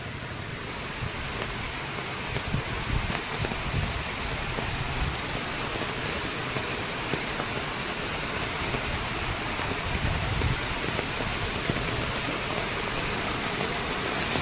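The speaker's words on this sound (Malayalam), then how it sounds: "ഇതാണ് മലമ്പുഴയിലെ ഏറ്റവും വലിയ വെള്ളച്ചാട്ടങ്ങൾ" Malampuzha's largest waterfall pours during monsoon rain, a dense, continuous roar of rushing water that stays broad and even throughout, with no voices.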